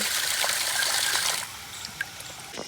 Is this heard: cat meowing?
no